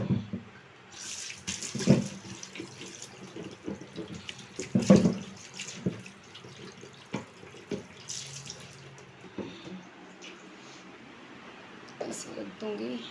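A griddle (tava) is rinsed under a running kitchen tap in a home kitchen, with water splashing and clattering against the pan for the whole stretch and a few louder knocks, and someone speaking softly now and then.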